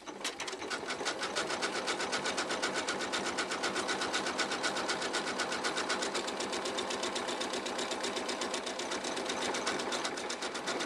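A Janome zigzag sewing machine stitching a wallet, a fast, even mechanical clatter running steadily and close for about eleven seconds with no talking.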